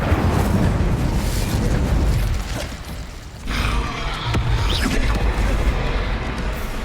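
An Incendio fire spell cast in Hogwarts Legacy roars as a loud, sustained whooshing blast of flame, briefly dipping before surging again with crackling bursts.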